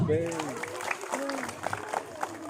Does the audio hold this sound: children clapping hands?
yes